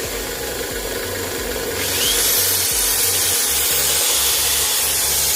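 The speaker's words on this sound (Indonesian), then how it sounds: "saya hidupkan bor" An electric drill powered by a two-stroke generator whirs steadily and loudly, its motor pitch rising and holding as it spins up, with a rhythmic low hum beneath.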